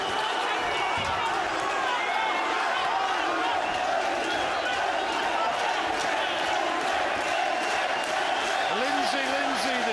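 Crowd chanting and roaring in a famous old boxing hall during a fight, a dense, loud, continuous wall of voices with rhythmic chant bursts and a commentator talking over it.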